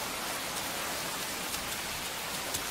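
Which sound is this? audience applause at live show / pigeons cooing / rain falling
rain falling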